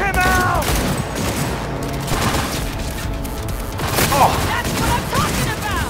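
Sustained rapid gunfire from a futuristic shooter game in Cyberpunk 2077, loud dense bursts running continuously with shouted voices breaking through in places.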